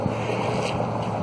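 A small RC trike microlight model aircraft with aluminum wheels and added details, flying on a 3-cell battery, gives off a steady electric motor and propeller drone with wind rush, constant and fairly close.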